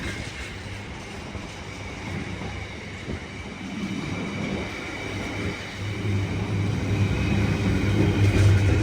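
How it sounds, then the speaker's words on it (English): A train with many wheel flats passes at Harringay Green Lanes, a steady rumbling roll building louder toward the end, with rhythmic low thuds under the continuous rail noise. "My god, this one has so many wheel flats."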